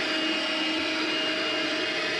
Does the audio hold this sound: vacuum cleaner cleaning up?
yes